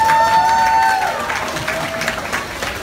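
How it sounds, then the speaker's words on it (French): Audience applause for a minister at a Franco-Ontarian day event in Hamilton, a steady broad patter of clapping with a faint tone fading early, moderately loud and continuous throughout. "Alors, applaudissons pour la ministre."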